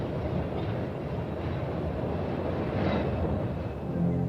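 A PATH commuter train rumbles steadily past, a dense low roar of wheels on rails that stays near and constant throughout.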